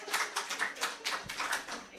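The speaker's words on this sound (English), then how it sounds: "A round of applause, please." Applause for an award recipient at an ophthalmology conference hall, a fairly close burst of several hands clapping unevenly at moderate volume for a couple of seconds.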